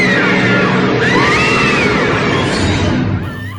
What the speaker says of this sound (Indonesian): Tiba-tiba, Lia menjerit keras.